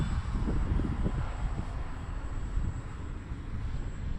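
A Dynam Waco RC model biplane drones overhead at an east-west field, its electric motor and propeller giving a steady, moderately distant hum with a rumbling wind-like texture and no talking.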